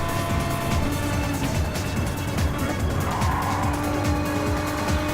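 A race car pushes hard through 130R, a fast sweeping corner at Suzuka, its engine note loud and sustained while the tires squeal and scrub through the bend, continuous with no talk.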